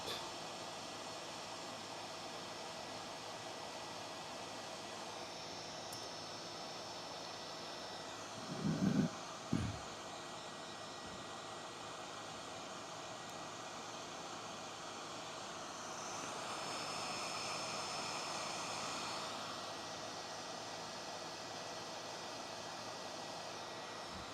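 A hot air rework station blows hot air for a quick reheat while soldering, a steady faint hiss running throughout with a brief clatter partway through and a slight swell in airflow later.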